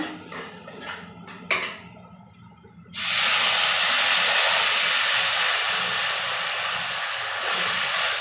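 Water hits a hot pan of potatoes and semolina and erupts into a loud, steady sizzling hiss that continues for several seconds after a few kitchen clinks.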